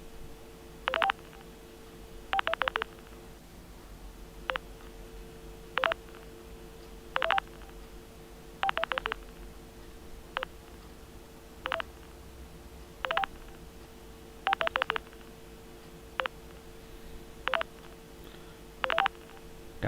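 A Bakelite telephone with a mechanical dial gives off a series of short, evenly spaced tone bursts, some single and some in quick pairs or triples, over a faint steady hum in a quiet room.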